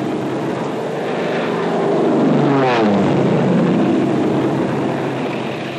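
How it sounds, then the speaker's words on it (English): A 1940s C-47 transport plane and small liaison aircraft fly overhead, their engines making a steady, loud drone that swells slightly as one passes near, with no talking. "Both C-47s and small liaison planes are used for dropping the equipment and personnel."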